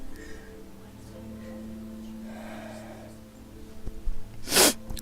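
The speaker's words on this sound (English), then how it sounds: "I'm gonna sneeze." A single sharp sneeze bursts out near the end, loud and close, after a few seconds of quiet room hum and faint breathing.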